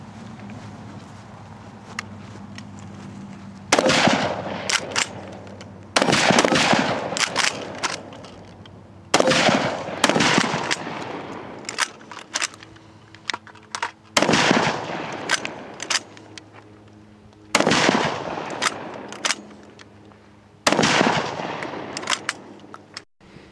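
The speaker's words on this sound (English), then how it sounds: "All right, place your weapons on fire. Fire 3 rounds." Infantry rifles fire rounds on an outdoor range with sharp cracks in about six loud bursts several seconds apart, each a cluster of overlapping shots that echo and fade before the next volley.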